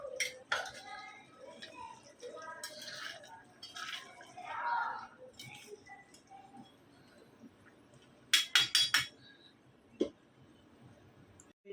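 A metal spoon stirs a pot of simmering chilli curry, salted to taste, giving scattered scraping and sharp clinks against the pot that end in a quick run of loud taps, with faint background noise in between.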